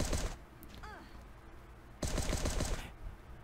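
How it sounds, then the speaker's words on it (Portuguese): Rapid bursts of automatic gunfire in the mobile survival game Last Day on Earth rattle close and sharp, one short burst, a pause with small chirps, then a longer burst. "Só no tiroteio."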